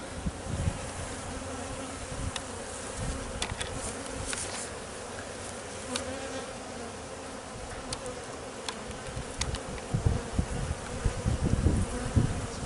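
Continuous droning hum of a bee swarm during a beehive removal, moderately loud, with individual bees zipping past the microphone and occasional clicks.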